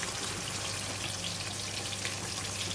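Pork belly deep frying in oil, a dense, loud, unbroken crackling sizzle that holds steady throughout, with no talk.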